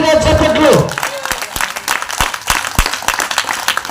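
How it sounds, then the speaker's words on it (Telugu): A voice speaks briefly, then a church congregation breaks into loud applause that comes through as separate, irregular sharp claps rather than a continuous roar. "గట్టిగా చప్పట్లు"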